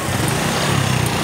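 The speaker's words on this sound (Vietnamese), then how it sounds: "mình sẽ nổ máy cho anh em coi nha" A Honda Future 125 motorcycle engine with an upgraded camshaft running steadily at close range, a continuous rough rumble with no talking.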